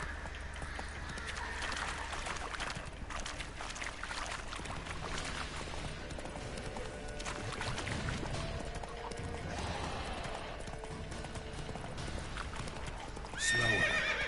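Roach, Geralt's horse in The Witcher 3, gallops with steady rapid hoofbeats and occasional whinnies, loud and continuous throughout, ending in a sharper burst near the close.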